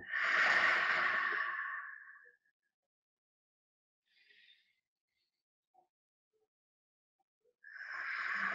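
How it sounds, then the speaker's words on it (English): During a relaxation breathing exercise, a close, airy mouth exhale lasts about two seconds, followed by a long quiet pause with a faint rustle. A second breath of similar strength begins at the end. "breathing out through the mouth."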